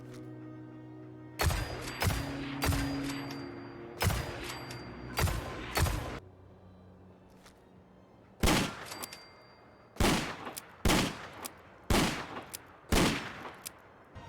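Ace of Spades hand cannon from a Destiny weapon mod in Fallout 4 fires loud, sharp single shots, spaced apart and sometimes in quick pairs, each with a short echoing tail and no talk.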